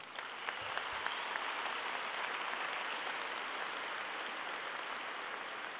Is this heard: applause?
yes